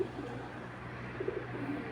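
Soft cooing from a Pakistani Teddy pigeon, an original ringed youngster, in a few brief low murmurs over a steady background hum, close by and fairly quiet.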